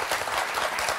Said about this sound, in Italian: facciamo un'altra applauso